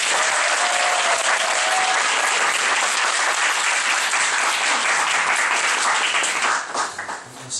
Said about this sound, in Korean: 우리 목사님 나오실 때 마지막이니까 뜨겁게 환영하는 박수로 우리 목사님 모시겠습니다.